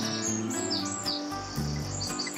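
A female common tern begs her mate for food at nesting pontoons by the water, giving repeated high, harsh calls in quick bursts, moderately close on a slightly breezy day.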